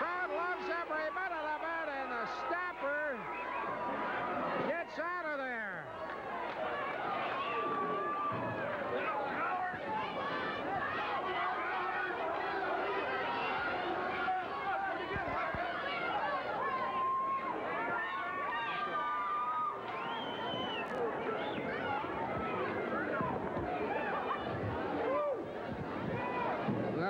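Wrestling arena crowd roars and chatters steadily throughout, a dense hubbub of cheering that stays level the whole time, with excited voices talking over it.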